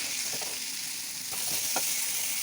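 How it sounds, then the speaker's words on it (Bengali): Diced pointed gourd (potol) fries in hot oil in a pan for a Bengali vegetarian potol-aloo dalna, giving a steady, close sizzle with a few soft stirring scrapes and no talk. "পটলও ভেজে নিচ্ছি"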